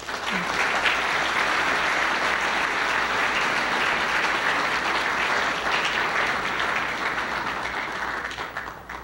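Audience applause welcoming an Argentine ambassador at a policy talk, a steady full room of clapping sustained for several seconds before tapering off slightly at the end.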